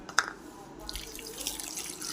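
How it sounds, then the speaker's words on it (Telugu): Water splashes and trickles into a cooking pot while pepper rasam is being made, a steady light pouring sound at close range with a small splash near the start, no talking. "వాటర్ అయితే 2 గ్లాసెస్ అయితే వేసాను"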